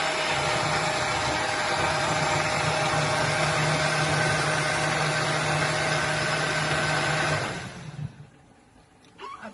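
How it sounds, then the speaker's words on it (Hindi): An electric kitchen grinder blends yogurt and water into lassi, giving a steady loud motor whir with a constant hum that runs for about seven seconds and then cuts off, leaving near quiet. "इसको ग्राइंड करेंगे, थोड़ी सी आवाज तो आएगी।"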